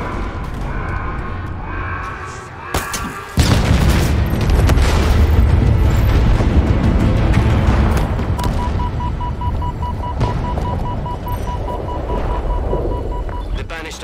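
A loud, sustained in-game explosion erupts in Halo Infinite as a gun's generator is destroyed. Heavy booming blasts and rumbling debris continue for several seconds, and voices talk over part of it.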